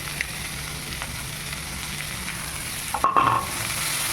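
Chopped vegetables with pepper and carrot fry in a pan for a healthy breakfast, giving a steady close sizzle with a few soft stirring scrapes and a brief louder clatter near the end.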